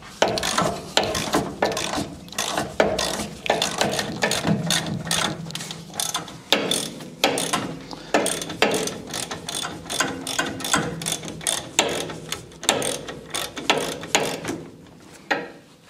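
Rapid ratchet clicks from a wrench undoing a thread-locked bolt on the rear brake of a Land Rover Defender during a brake disc upgrade, coming in repeated bursts of close, loud mechanical ratcheting with no talk.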